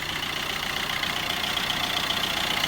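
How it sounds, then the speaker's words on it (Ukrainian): A 2012 Opel Astra 1.3 diesel idles somewhat loudly, a steady, even rumble with a faint knocking clatter, close and unchanging with no one speaking. "Двіжок також трошки ніби так голоснувато"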